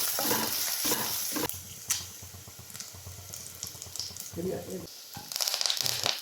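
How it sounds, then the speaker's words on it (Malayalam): Ginger and garlic fry in oil in a pan, with sizzling under repeated scraping and stirring strokes. Crackling bursts rise and fall, with a brief louder crackle near the end. "ഞാൻ ഇതിലേക്ക് കുറച്ച് ഇഞ്ചിയും വെളുത്തുള്ളി അതൊന്ന് മൂട്ടി വറക്കാം."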